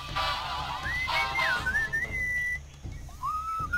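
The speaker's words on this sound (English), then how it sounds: "What is that enchanting whistling sound?" Melodic whistling in the video game Sam & Max Beyond Time and Space glides up and down over a steady rhythmic background beat, fairly clear and sustained.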